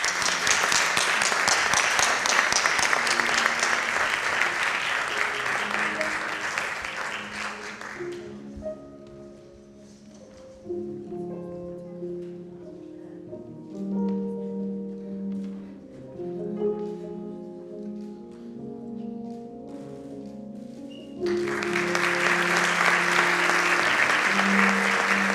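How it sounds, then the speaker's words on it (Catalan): Audience applause at a literary awards gala, loud and sustained for several seconds, then giving way to music in the middle before the clapping swells again at full strength. "Un aplaudiment, per favor."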